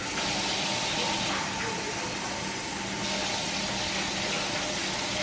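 Water rushes steadily into a cooking pot with a continuous broadband hiss, loud and close, with no pauses.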